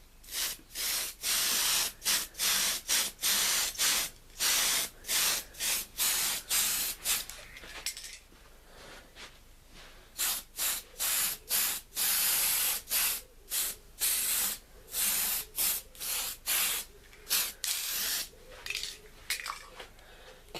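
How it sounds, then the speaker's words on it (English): An aerosol can sprays a coat of primer onto a plastic Revell model of the warship SMS Dresden or SMS Emden in a run of short, sharp hissing bursts, pausing briefly partway through before the quick puffs resume, close to the microphone. "just quickly give it a coat of primer"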